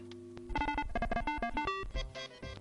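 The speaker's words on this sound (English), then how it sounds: "Commander Keen music." A brief snatch of Commander Keen 4: Secret of the Oracle game music, bright synthesized melody notes stepping over a bass line, fairly quiet.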